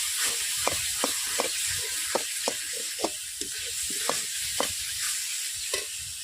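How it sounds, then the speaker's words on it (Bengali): Spice masala for crab curry frying in oil, a steady soft sizzle and hiss with repeated light scraping stirs every half second or so, close and fairly quiet. "মশলার গা থেকে তেল ফুটাচ্ছে, তেল বেরাচ্ছে"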